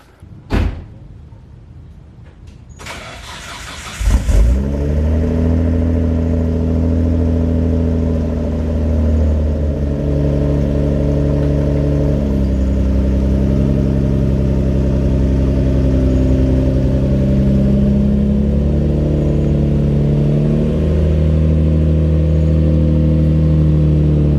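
Car door thumps open the clip, then a Nissan R32 GT-R engine starts a loud, steady drone while driving on the road, its pitch shifting now and then with throttle and gear changes.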